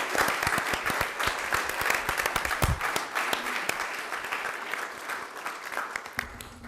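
Officers' families at a city council meeting receive a round of applause, a dense burst of many hands clapping steadily for several seconds in a large room, with a few louder individual claps standing out.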